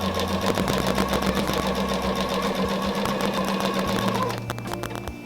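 A sewing machine runs steadily while stitching across quilt binding, a continuous loud mechanical whir that winds down near the end.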